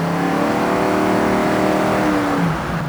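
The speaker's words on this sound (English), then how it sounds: "I was feathering it, so you're going to hear like the difference in note from the exhaust." A car's exhaust note rises and falls as the driver feathers the throttle, a steady, close engine drone with shifting tones and a slight dip at the end.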